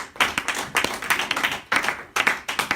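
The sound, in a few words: church congregation applauding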